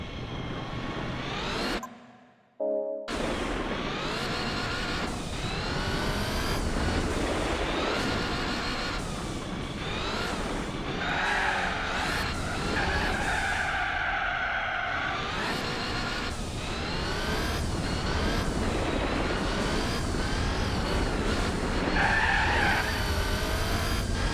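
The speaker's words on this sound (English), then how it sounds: "the car just slid on the ice then" Tires skid and squeal as a car slides on ice in Gran Turismo 4, a sustained engine drone with shifting screeching tones running continuously and loudly after a brief gap near the start.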